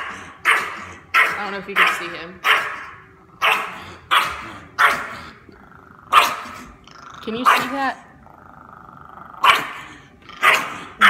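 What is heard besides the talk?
dog barking and growling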